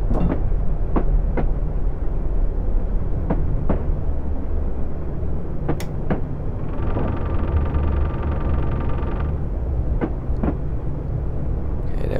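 A train in Train Simulator rumbles steadily along the rails, with sharp periodic clacks and a brief tonal whine midway, loud and close.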